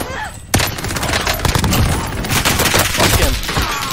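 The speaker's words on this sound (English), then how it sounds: "Another bro shooting me" Dense video-game gunfire fills the whole stretch, rapid overlapping shots and bursts up close and loud, with a sharp blast opening the barrage and no speech over it.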